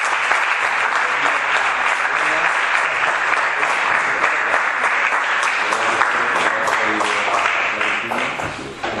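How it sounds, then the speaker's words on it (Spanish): A lecture audience gives sustained applause at the close of a conference talk, dense steady clapping from many hands filling the room before tapering slightly at the end. "Le damos un fuerte aplauso."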